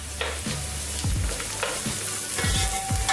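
Onions and a small piece of cinnamon frying in a pot for Charsadda mota chawal, a steady close sizzle broken by several scraping stirs of a spoon against the metal.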